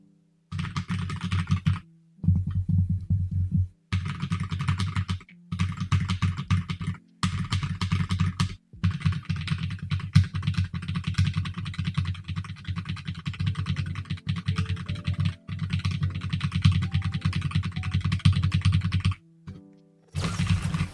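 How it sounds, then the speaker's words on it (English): Rapid keyboard spamming on a computer keyboard during an Asphalt Legends session: dense, fast clattering keystrokes in long bursts broken by short pauses, close and loud, with game sound faintly underneath. "that's enough keyboard spamming"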